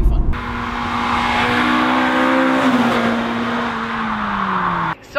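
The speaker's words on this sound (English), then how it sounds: "I am driving Jason's DC2." A Honda Integra DC2 Type R in Phoenix Yellow, a relatively standard example, drives with a steady engine drone that rises and then eases in pitch, heard close and loud throughout with no talking.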